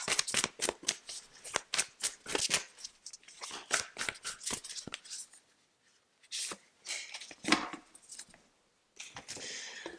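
Tarot cards being shuffled make rapid bursts of crisp riffling and slapping, close and clear, in several rounds separated by short pauses, with no talk.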